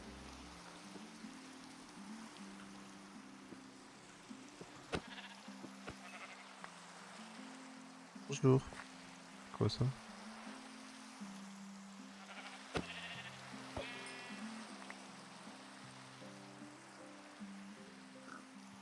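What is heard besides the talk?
sheep bleating in a video game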